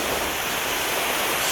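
A waterfall on the Devon coast near Welcombe roars as a steady, loud, broadband wash of falling water, continuous and close with no other sounds.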